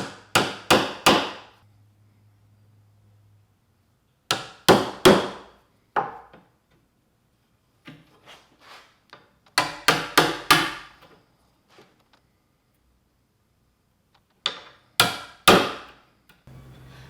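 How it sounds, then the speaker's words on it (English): Sharp wooden strikes of a chisel squaring the corners of a routed rabbet on a bookshelf come in quick bursts of three or four blows, repeated several times with pauses and lighter taps between, close and loud. "I'm just going to use a chisel to square off all the corners"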